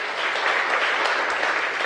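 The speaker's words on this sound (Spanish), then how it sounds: "Denle una ofrenda de palmas al Rey." A church congregation breaks into applause during a sermon, an even, full burst of many hands clapping together, held steady for about two seconds.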